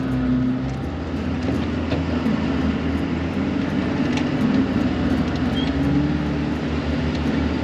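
A Suzuki Samurai engine hums in low gear while creeping downhill off-road, a steady close drone with faint creaks and rattles from the vehicle.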